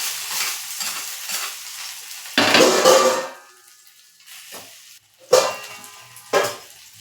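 A spoon stirs upma in a pot after the tempering is poured on top, giving scraping and clinking bursts that come and go, loud and close, with quiet gaps between strokes.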